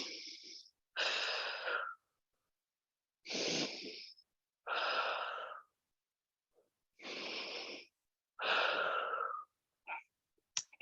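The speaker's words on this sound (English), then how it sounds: "3 deep breaths in and out" Slow, deep breaths in and out during a stretching cool-down, about seven separate airy breaths with quiet pauses between them, heard close and alone.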